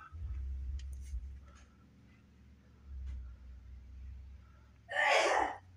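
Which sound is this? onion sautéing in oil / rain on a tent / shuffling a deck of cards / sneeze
sneeze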